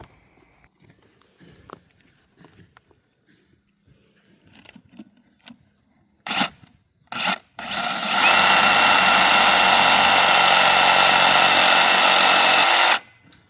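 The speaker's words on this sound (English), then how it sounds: "get that sawzall in there and go ahead and get them cut" A Sawzall reciprocating saw cuts the antler tines off a sedated buck whose antlers are stuck in a fence. A few short bursts come first, then a loud, steady, close buzzing cut runs for about five seconds before stopping abruptly.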